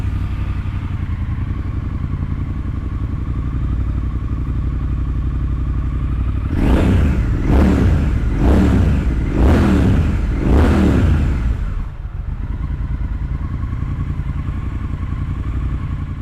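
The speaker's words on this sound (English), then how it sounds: "The Vance Hines pipes on this bike sound absolutely brilliant." Triumph Thruxton R Track Racer cafe racer with Vance Hines exhaust revving hard in five sharp, loud blips over a steady idle, then settling back to a rumbling idle.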